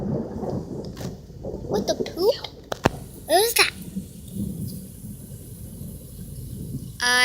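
Low thunder rumbles through a lightning storm with only light sprinkling rain, broken by a child's startled exclamations and short spoken remarks, with a brief scraping or sliding sound at the end.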